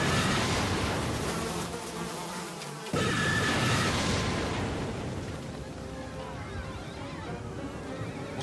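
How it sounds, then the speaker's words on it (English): A dense swarm of flies drones and buzzes continuously, loud and close, with the texture briefly shifting partway through but the insect hum carrying on throughout. "my God will send swarms of flies upon you and your people!"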